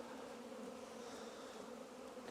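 Honey bees fly in a dense, steady buzzing swarm at a hive entrance, the drone continuous and fairly close with no voices over it.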